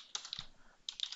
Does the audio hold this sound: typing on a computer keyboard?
yes